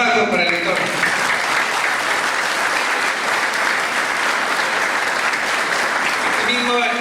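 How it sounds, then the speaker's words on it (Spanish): A hall audience applauding after a lecture on the challenges facing lawyers, given for a Lawyers' Day celebration, as loud, sustained, even clapping from many hands, with a brief voice at the start. "Fuertes aplausos para el doctor."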